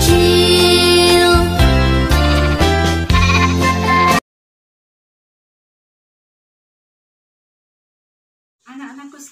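A children's song about a little sheep plays loudly for about four seconds, then silence, followed by a short sheep bleat near the end, at a children's church service.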